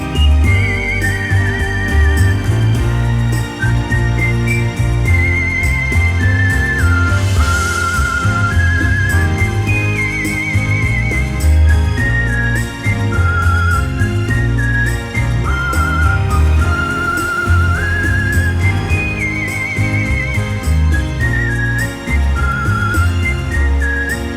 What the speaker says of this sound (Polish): znajdują się morskie organy. Są to rury z gwizdkami